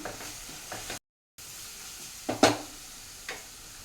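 Garam masala being stirred into a sizzling methi chaman curry in a pan: soft scraping strokes over a low frying hiss, with a brief silent gap and a few sharper spoon knocks.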